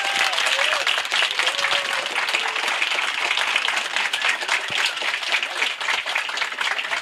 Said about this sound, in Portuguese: E os convidados quiserem aplaudir o casal